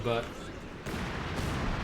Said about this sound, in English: More artillery being fired in here